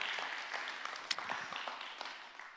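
A church congregation at a worship service claps together, a fairly loud burst of many hands that gradually thins and fades, with scattered individual claps standing out near the end.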